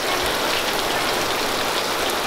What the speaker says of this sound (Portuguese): Bastante chuva.